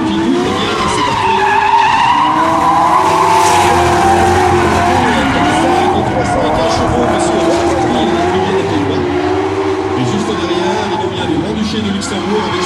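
Several cars drift at an outdoor drift show in Alsace, France, among them a BMW, a Ford Mustang and a Nissan. Engines rev hard and tires squeal in long sweeping slides, loud and continuous, with a crowd murmuring throughout.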